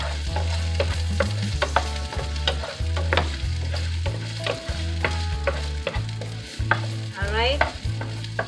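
Onion is stirred as it fries in a pan for beef afritada, a Filipino stew. Close, rhythmic spatula scrapes and clatters repeat every second or so over a continuous low sizzle, with no voice.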